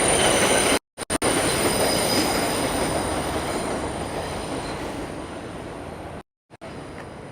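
A NYC subway train's wheels grind around a curve with a sustained high metallic squeal over a steady rumbling rail roar. It is heard from nearby at street level and fades slightly, with no voices.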